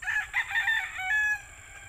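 A single rooster crows nearby, a loud, drawn-out call lasting just over a second, with no voices around it.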